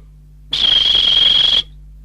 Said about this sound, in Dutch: Nu blaast de vader op de fluit.